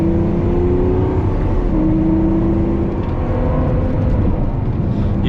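A Lamborghini Aventador Superveloce LP750 accelerates on a scenic road. Its engine note is a loud, sustained, near drone with a steady pitch that shifts slightly as it pulls, and no voices are heard.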